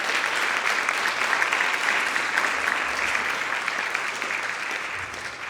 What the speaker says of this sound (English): So if we could have a round of applause to thank our sponsor.